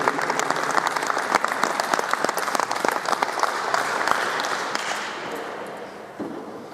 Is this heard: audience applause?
yes